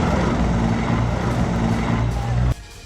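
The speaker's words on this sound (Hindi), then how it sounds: "वीडियो में साफ दिख रहा है कि हेलीकॉप्टर पायलट के कंट्रोल से बाहर है।" A helicopter spinning out of control as it tries to land on the Kedarnath helipad makes a loud, steady rotor and engine roar close by. The roar cuts off sharply near the end and leaves only a faint rumble.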